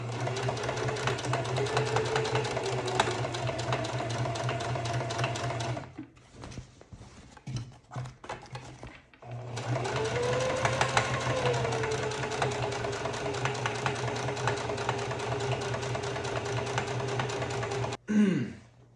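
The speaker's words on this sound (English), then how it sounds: "I'm gonna start sewing" Sewing machine stitching a bag seam, heard as a steady, fairly loud mechanical whir with a low hum that runs for several seconds, stops briefly with a few knocks, then starts again for a long stretch; no talking.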